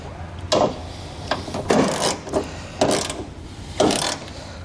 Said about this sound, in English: we're going to tighten up our front bracket here